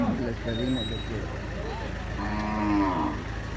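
Dairy cattle low out on a livestock farm, a couple of long moos at moderate distance over steady outdoor background noise, with someone speaking Spanish nearby.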